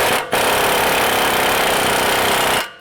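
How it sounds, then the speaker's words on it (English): A rapid impact wrench drives a 21mm socket to tighten the upper ball joint on a 2020 Ram 1500, one loud continuous burst of about two seconds with a brief stop at the start. "Go ahead and take your 21mm socket and tighten up your upper ball joint."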